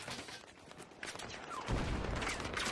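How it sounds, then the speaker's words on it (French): Battlefield 3 tank fire and battle noise from a game, with dense crackling gunfire and a heavier low rumble building in the second half, fairly faint overall. "j'ai l'impression qu'il y a un char. Ou alors c'est un char allié qui tire"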